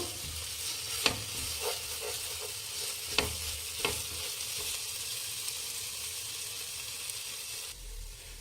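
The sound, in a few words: eggs frying and being stirred for egg rice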